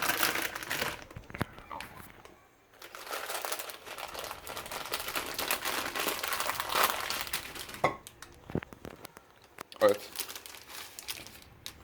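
Crinkly plastic wrapper of a chicken-flavoured instant noodle pack being opened and handled, with close, irregular crackling and rustling bursts that come and go, some louder crinkles near the end; a voice talks at points.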